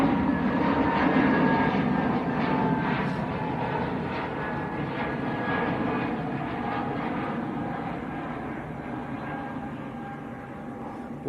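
EasyJet airliner bound for Tenerife South at Manchester Airport, a steady broad jet roar holding loud and close throughout, with no talk over it.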